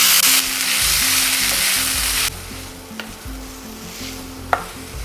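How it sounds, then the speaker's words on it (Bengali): Grated potato with whole fennel seeds and chopped green chili sautéing over medium flame, a loud hissing sizzle that drops to a softer fry, with stirring clicks and low tonal music underneath. "এখানে কিন্তু আলুটাকে আমি ভাজছি না, শুধুমাত্র একটু হালকা করে সতে করে নেব।"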